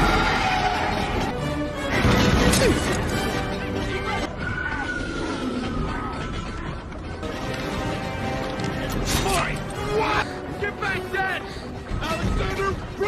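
Horses pulling the emperor's carriage in The Mummy are heard in a chaotic film action scene: whinnies and hoof clatter mixed with crashes, shouting voices and a dense, loud soundtrack.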